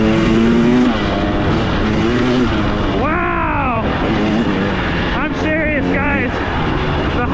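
A 2023 Husqvarna TX300 two-stroke dirt bike revs loudly and close by, its engine pitch rising and falling through repeated throttle blips. A voice is heard over the engine.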